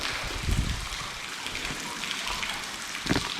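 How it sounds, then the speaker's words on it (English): Waterfall pouring over an abandoned train tunnel near Frog Woman Rock: a constant close hiss of falling water with heavier splashes and drips hitting surfaces, heard from inside the tunnel. "We're about to go under the waterfall now."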